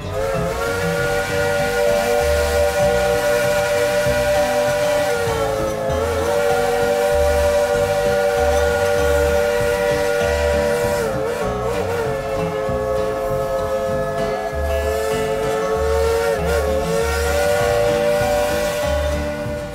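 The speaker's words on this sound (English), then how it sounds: "let's all tell the engineer to blow the whistle" A loud, sustained three-chime steam train whistle sounding a rich multi-tone chord, pausing briefly and repeating, over rhythmic chuffing and hiss of a moving locomotive at a theme park.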